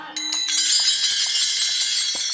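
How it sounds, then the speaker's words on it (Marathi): Small taal hand cymbals at a Varkari devotional gathering, struck in quick repeated clinks that leave a bright, sustained metallic ringing, close and loud throughout. "टाळ"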